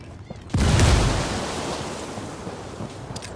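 A frag grenade detonating in Ghost Recon Wildlands: a sudden heavy blast that booms loud and then decays into a long rumbling, rushing tail, with faint background noise before it.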